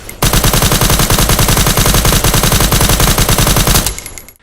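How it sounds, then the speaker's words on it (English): An MCX Rattler rifle fires in a video game, a loud, steady burst of rapid automatic gunfire lasting almost four seconds before it cuts off. "I just can't ignore how slow the fire rate of the MCX Rattler is in the game."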